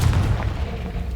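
Confringo blasting spell explodes in Hogwarts Legacy, a loud, dense booming burst with a heavy low rumble that runs through the whole short clip with no talk.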